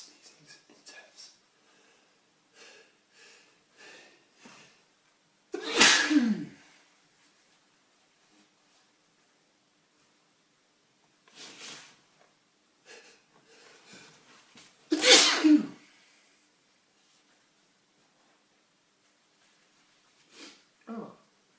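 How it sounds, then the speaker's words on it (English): A man sneezes after sniffing detergent powder. Two sharp, explosive sneezes stand out several seconds apart, with quieter sniffs, breaths and small sounds between them in a quiet room. "It's making me sneeze."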